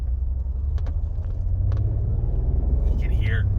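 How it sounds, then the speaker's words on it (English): An MG ZT-T 2.5 V6 estate with an automatic gearbox idles with a steady low rumble and a slight irregular misfire, heard from close by with faint clicks and a brief squeak near the end. "You can hear it just does sound slightly like it's off a cylinder"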